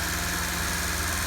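Volvo 122 Amazon barn-find engine running after 23 years idle, a steady close idle with a rhythmic low throb and dense mechanical noise, loud and continuous with no voices.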